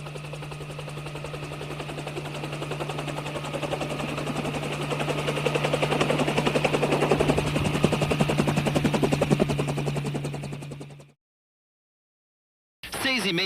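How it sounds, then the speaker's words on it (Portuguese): A helicopter's rotor beats in a steady, dense chop with a constant engine whine for about eleven seconds before cutting out abruptly. "o helicóptero foi buscá-lo"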